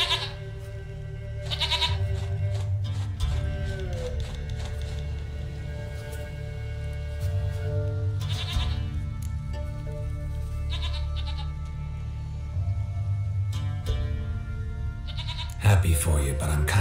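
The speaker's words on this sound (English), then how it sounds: "goat of mine, dearest," Goat bleats in the video game The Witcher 3: Wild Hunt, several short cries scattered over a steady game soundscape of music and ambience, while someone speaks fondly in between.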